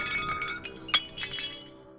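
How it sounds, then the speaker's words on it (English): Dishes crash to the floor in a sharp burst of clinking, breaking glass and crockery, one loud close impact followed by scattered rattling shards that quickly fade to quiet. "A loud thump as dishes come crashing to the floor."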